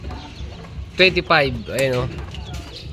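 A gamefowl rooster clucks and calls close by in a few short, strained bursts, with people talking quietly around it.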